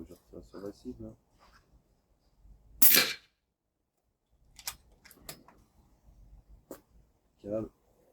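A single sharp shot is fired at a target, heard as one loud crack standing apart from sparse clicks and handling noise. Someone speaks briefly before and after it.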